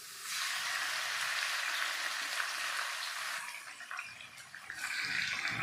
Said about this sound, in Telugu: మ్యారినేట్ అయిన చికెన్ని వేయించుకోవడానికి నేను 4 స్పూన్ల ఆయిల్ వేస్తున్నాను. దీనిలోనికి నేను బ్రెస్ట్ పీసుల్ని వేస్తున్నాను.